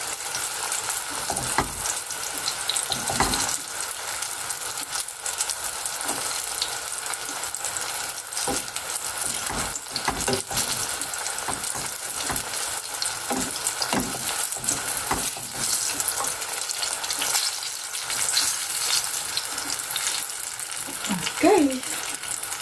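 Eggplant sizzles and crackles in hot oil for a long stretch, a dense, steady frying hiss with occasional stirring clatter, fairly loud and close, with a voice speaking briefly near the end.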